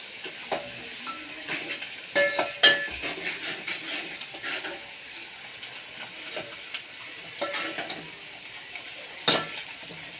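Ginger garlic paste sizzles in a pan for an egg curry while a utensil stirs and scrapes, with intermittent clinks of metal against the pan over steady frying.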